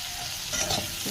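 Fish stirred in a frying pan, a close, steady sizzle of hot oil with a short scrape of the stirring utensil partway through, with no voices.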